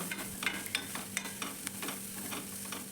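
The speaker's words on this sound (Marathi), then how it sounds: "त्यामध्ये आता मी ही भिजवलेली चण्याची डाळ टाकते आहे" Soaked chana dal tips into a pan of onion frying with fish masala for a Malvani-style wild vegetable dish, giving a steady sizzle with several light clicks and scrapes of a spoon stirring.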